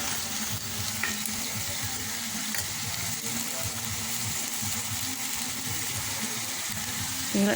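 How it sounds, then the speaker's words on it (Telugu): Green chilies and chopped tomatoes fry in a pan for cabbage tomato chutney, a continuous loud sizzle with scraping stir sounds and a low steady hum throughout. "టమాటాలు రెండండి కట్ చేసి పెట్టుకున్న ముక్కలు ఇవి కూడా వేసి మగ్గ పెడదాము"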